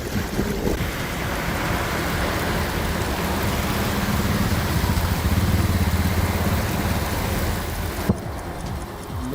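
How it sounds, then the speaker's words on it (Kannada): Heavy rain pours across Bengaluru with stormy gusts, a dense continuous roar of drops close by, swelling slightly mid-way before a sharp cut near the end. "ಬೆಂಗಳೂರಿನ ಹಲವೆಡೆ ಧಾರಾಕಾರ ಮಳೆ ಸುರಿತಾ ಇದೆ"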